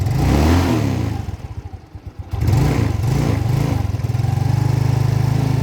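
A Yamaha Mio Sporty scooter engine, previously failing to start, revs up loudly, sputters and dips briefly, then catches and settles into a fast, steady idle close by.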